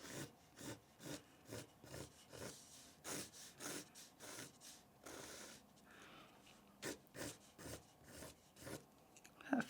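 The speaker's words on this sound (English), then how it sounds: "what I'm going to do is I'm going to draw a pumpkin shape." A pencil drawing a pumpkin shape on paper produces close, steady scratchy strokes in a quick back-and-forth rhythm, broken by short pauses, with no talking.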